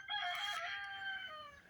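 A rooster crows once in a vegetable garden, a single drawn-out cock-a-doodle-doo that rises and then trails off, heard at moderate distance and fairly faint, with no talking.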